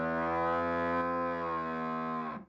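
A cow gives one long, loud, sustained moo lasting over two seconds, rich and droning before trailing off abruptly, heard close and alone with no talking.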